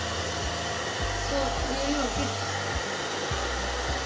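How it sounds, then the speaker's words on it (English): A hair dryer, used to set a skin on a MacBook, blows with a constant loud whooshing roar throughout, with a brief murmur of speech underneath. "Now I'm just gonna use the hairdryer to make it stay."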